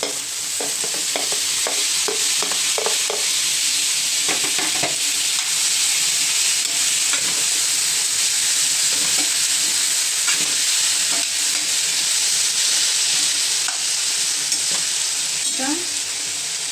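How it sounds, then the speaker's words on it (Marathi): Potatoes sauté in a pan for a tomato-potato bhaji, an unbroken loud sizzle carrying on throughout, with clusters of spatula scrapes and taps early on and a few later stirs. "दोन मिनटं जरा परतून घ्यायचे बटाटे."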